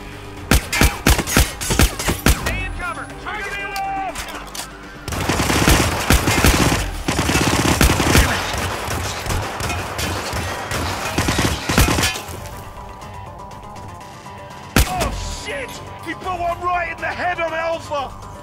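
Bursts of rapid automatic gunfire in the Hitman video game, a hostile firefight in a contracts-mode mission, with loud sharp volleys, brief lulls and renewed shooting over game voices and clatter.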